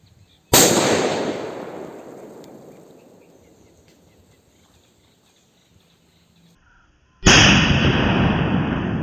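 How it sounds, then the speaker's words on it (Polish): An Achtung P1208 Kometa firecracker bursts in grass with a loud, sharp crack that decays over several seconds, then a second loud blast follows near the end. "I lecimy z pierwszą petardką w trawie."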